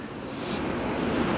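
A flooded river in Lalitpur, Nepal rushes past in a steady, broadband roar of turbulent water, loud and continuous with some wind noise, no voices.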